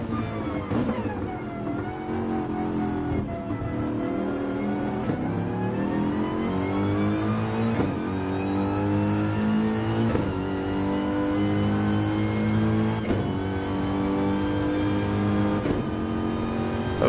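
A race car engine revs hard in a rain-soaked sim racing event at Spa, the pitch climbing and dropping through repeated gear shifts, upshifting into sixth and back down to fifth, loud and steady with no voices over it.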